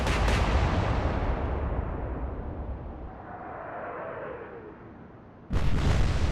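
Heavy naval guns boom in the Atlantic Fleet game, a deep rumbling blast fading over several seconds before a second sharp report cuts in near the end, with no talking.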